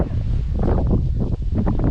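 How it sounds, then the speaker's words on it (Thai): Strong wind buffets the microphone outdoors beside a newly planted bamboo row near a road at a Thai park. The low, rumbling gusts run continuously for a couple of seconds. "ตอนนี้คือลมแรง"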